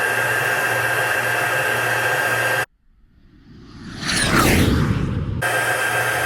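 A heat gun blows steadily to melt embossing powder in a highlighted emboss resist craft technique, a loud broadband airflow roar that cuts out briefly and then returns, rising in strength and staying constant.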